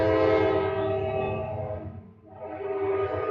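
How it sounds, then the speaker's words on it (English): A train passes nearby, a loud sustained horn-like tonal roar that dips briefly and then swells again over rumbling wheels. "I got a train coming"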